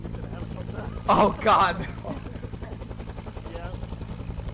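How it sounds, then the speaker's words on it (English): Helicopter in a military jungle video game, a steady rotor thrum running underneath, with someone talking over it. "They're actually bringing a helicopter to us."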